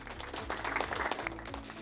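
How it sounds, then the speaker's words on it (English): An indoor audience claps for their teachers, a short burst of scattered, close applause with irregular hand strikes, moderately loud and without any talking. "Let's applaud for them."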